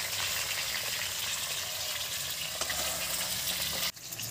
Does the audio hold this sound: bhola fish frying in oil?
yes